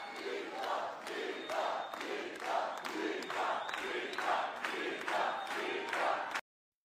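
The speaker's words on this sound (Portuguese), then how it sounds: "Aplaudido, ovacionado de pé." A crowd cheers and chants in a steady rhythmic pattern, loud and echoing, with repeated shouted pulses roughly every half second before cutting off abruptly.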